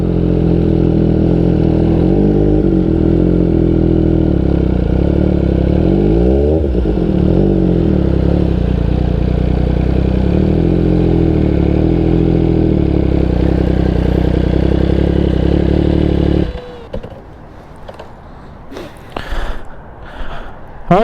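An MV Agusta race motorcycle engine idles steadily and loudly inside a parking garage, a continuous rumble with a brief rev midway, then cutting off near the end, leaving faint shuffling.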